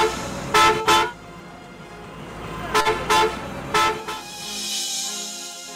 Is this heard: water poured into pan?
no